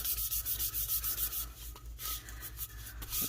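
An epoxy tumbler with a black base and chameleon mica resin is rubbed down by hand in quiet, regular scratchy sanding strokes, close up and alone without speech.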